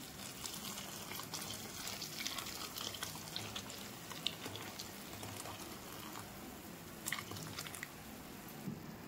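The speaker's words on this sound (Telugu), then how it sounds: "ఇలా వేడి నీళ్ళు పోసుకోవాలండి." Hot water poured from a vessel onto soya chunks (meal maker) in a bowl, a steady watery pouring and dripping wash lasting several seconds at moderate level, no talking.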